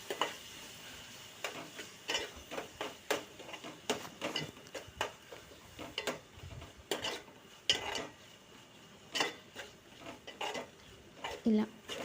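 A spoon scrapes and knocks against a pan while tomato pieces are stirred into a soya chunk and drumstick curry, making irregular clinks and scrapes at close range over a faint background.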